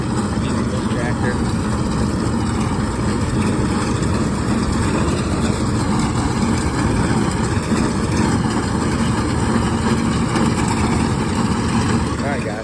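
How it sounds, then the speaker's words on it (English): A tractor engine runs steadily throughout, a continuous low mechanical drone with an even hum that neither rises nor fades, heard from close by during hay season work on a farm. "so it's the first time using this tractor"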